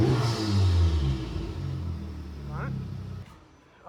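A 2025 Honda Civic Type R FL5 fitted with a PRL intake revs once, a deep rising engine rumble close by that settles back to idle, with a voice speaking briefly.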